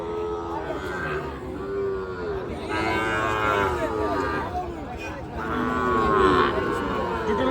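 Bulls, calves and cows moo repeatedly, loud and close, over a steady crowd murmur at the Raniganj outdoor cattle market.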